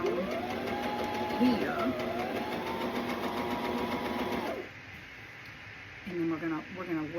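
A sewing machine runs steadily for several seconds while stitching a t-shirt and skirt into a dress, then stops, with someone talking over it and afterward.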